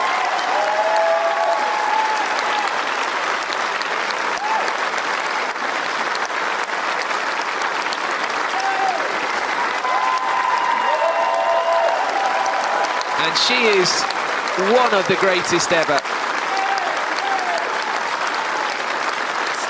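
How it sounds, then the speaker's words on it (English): A Wimbledon tennis crowd gives a standing ovation after a singles final, with loud, sustained applause filling the whole stretch while a commentator speaks over it. "Standing ovation from the crowd."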